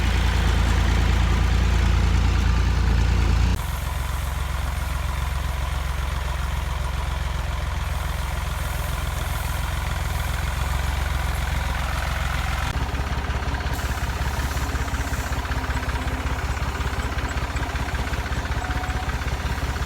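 A tractor engine running in a vineyard during spraying, a continuous low, heavy rumble idling steadily for the whole stretch, with a shift in tone partway through but no break, close and loud.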